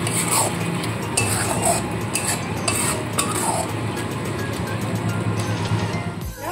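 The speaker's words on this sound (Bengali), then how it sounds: "মশলাটা খুব ভালো মতো কষিয়ে নিচ্ছি" A spice masala sizzles in a pan with a splash of water as it is fried down for a fish roe bhuna, with continuous scraping and stirring and a few metallic spoon knocks close by.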